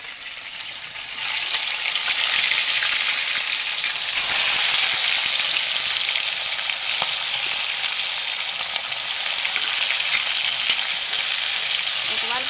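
Steady, loud sizzling of fresh river fish frying in hot oil, a dense crackling hiss that swells up after the first second and holds throughout with no talking.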